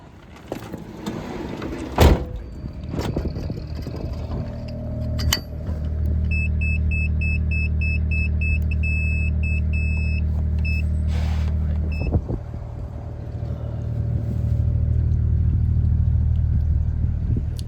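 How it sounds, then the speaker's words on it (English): A car carries passengers back to the Ellesmere arm of the Llangollen Canal in winter, with a steady low engine rumble, a door thud and brief electronic beeps before a long, even drive. "Anthony's driving us back to the Ellesmere arm."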